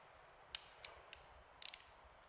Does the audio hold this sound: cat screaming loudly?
no